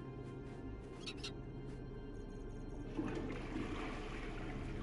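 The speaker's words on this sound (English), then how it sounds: "I gotta flush." A toilet flushes in the video game Falcon Age, a steady watery rush held at a low, even level for the whole stretch and rising slightly toward the end, with no talk over it.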